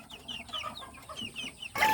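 Backyard hens and young banded chicks cluck and chatter in a flock, a string of short close calls in an uneven rhythm, ending in a sudden louder burst.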